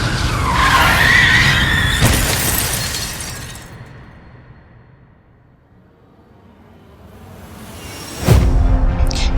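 Car tires squeal loudly in a long skid as the vehicle swerves, fading out before a sharp crash as it strikes an iron railing.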